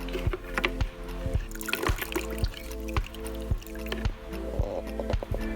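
Excess liquid drips and squishes as a tea bag or cloth is squeezed while making a first-fermentation kombucha batch, with soft wet drips and squelches over a faint music bed.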